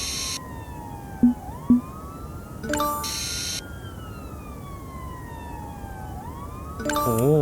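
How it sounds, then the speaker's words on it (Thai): Siren of a fire truck on a city street intersection watched by traffic cameras, sweeping in long wailing rises and falls with brief electronic tones, heard alone with traffic noise underneath. "รถดับเพลิงมานะครับ"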